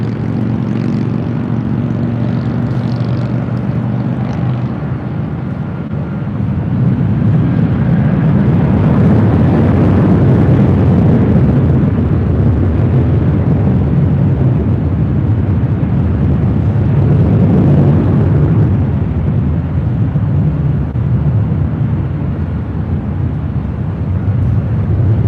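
A Delta airliner takes off from runway 24 left at LAX, its jet engines building into a loud, sustained roar that swells and holds for the whole stretch, with no voices.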